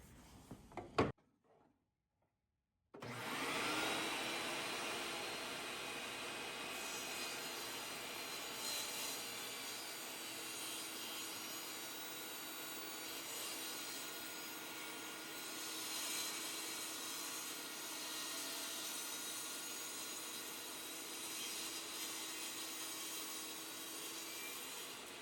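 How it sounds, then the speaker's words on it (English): A saw works steadily through wood for a cutting board, a long continuous whirring cut after a brief silence, moderately loud and even throughout. "Now this will be what you cut out on the saw."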